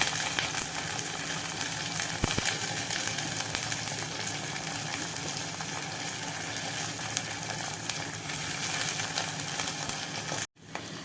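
Dried fish sautéing in a pan gives a dense, steady hiss of frying, close and continuous, ending in a brief cut near the close.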